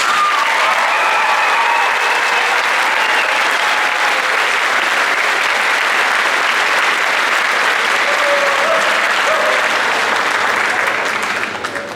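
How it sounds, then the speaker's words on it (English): Loud, sustained applause from a large audience honors a high school's graduating class at its 2022 graduation ceremony, a dense unbroken wash of clapping lasting the whole stretch and tapering only at the very end. "can we get a round of applause for the class of 2022 graduates?"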